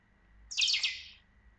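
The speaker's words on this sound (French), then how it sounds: "Excusez le petit bruit d'oiseau." Small bird in the game Thief gives a single short, bright chirping trill, fairly faint against a quiet background with a low hum and no talk.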